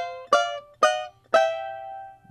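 Three crisp banjo notes or short rolls ring out in a kick-off to a song, each bright attack decaying quickly, the last one sustaining longer, played solo and close.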